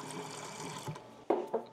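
A cup of water poured into a bowl while baking, a soft steady trickle followed by a couple of brief splashing gulps near the end, close and fairly quiet.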